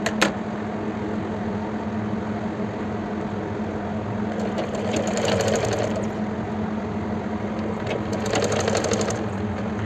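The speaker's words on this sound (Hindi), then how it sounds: "किनारे वाली सिलाई लगा दीजिए इस तरह से" A sewing machine stitches along the edge of a kurti with a steady, fast mechanical whirr, running continuously at moderate volume with slight swells in speed.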